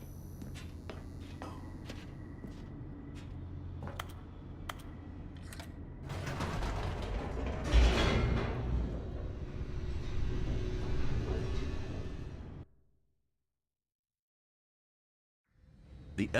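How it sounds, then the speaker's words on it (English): Elevator machinery in The Stanley Parable rumbles and creaks as the car descends, a steady low mechanical drone with clicks that swells mid-way, then cuts off abruptly into silence before a faint return. "The elevator raced downward, plummeting towards an unknown fate."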